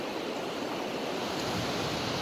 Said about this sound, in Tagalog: Ang laki ng alon-alon dito.